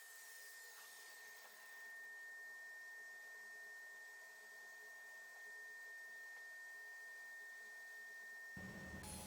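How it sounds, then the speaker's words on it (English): A table saw squares up the edges of a wooden cutting board with a steady, fairly faint motor drone and a thin, constant high whine that cuts off abruptly just before the end. "I'm just going to square everything up on the table saw"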